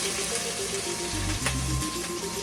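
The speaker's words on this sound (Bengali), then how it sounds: "কিছুটা সময় আমাকে এইভাবে ভেজে নিতে হবে" Garlic and onion frying with black cumin in a hot pan, a steady close sizzle with soft crackles and a brief stirring scrape partway through.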